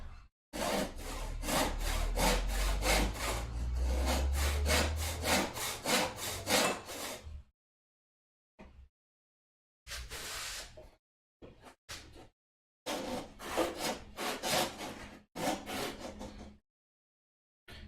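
A crosscut carcass saw rasps through wood in a long run of fast, even back-and-forth strokes. After a silent gap, several shorter bursts of sawing follow, loud and close.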